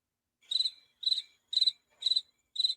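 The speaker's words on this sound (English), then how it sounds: "It's all crickets, baby." Crickets chirp in five evenly spaced, short, shrill bursts against an otherwise silent background, clear and fairly close.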